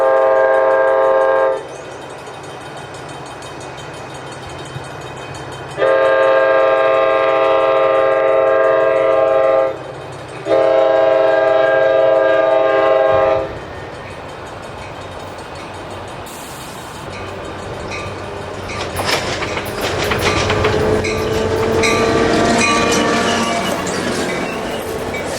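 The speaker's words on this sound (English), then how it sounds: "we see Ace Train 3 passing several grade crossings." An ACE commuter train passes several grade crossings, its horn sounding in long, loud blasts before the rumble and rattle of the cars grows closer and fills the air.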